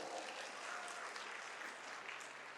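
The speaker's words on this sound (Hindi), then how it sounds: "एक जोरदार तालियां होनी चाहिए" Enthusiastic applause from an audience at a network-marketing success event, steady dense clapping filling the whole stretch without any talk.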